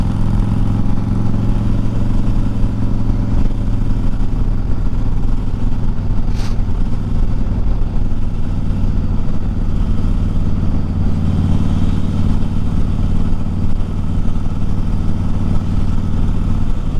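Motorcycle with a newly fitted exhaust running steadily through a short test ride, its loud engine droning continuously close by with no speech.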